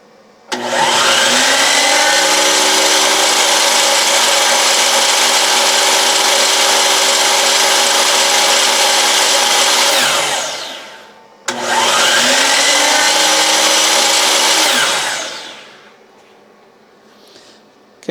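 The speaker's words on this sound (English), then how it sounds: "now I'm going to hit the miter saw and let it run for just a bit" A miter saw powered by a portable power station spins up twice, each time a loud, bright whirring roar that holds steady and then winds down, separated by a brief pause, ending in quiet with a faint hum.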